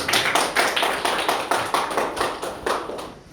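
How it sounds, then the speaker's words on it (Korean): A seminar audience at a university talk on construction-industry ESG claps to welcome a panel discussant. The claps are moderately loud and come in a quick, regular rhythm from a small crowd, with no talking over them. "큰 박수로 모시겠습니다"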